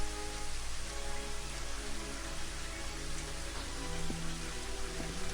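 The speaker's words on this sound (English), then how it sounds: "Of course we have a rainstorm here as well." Steady rain falling in a forest during a rainstorm in the video game Daggerfall Unity, a dense continuous hiss with a faint tonal music bed underneath.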